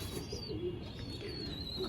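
A pair of teddy pigeons coo in a soft, low murmur that runs through the whole moment, with a faint high whine behind.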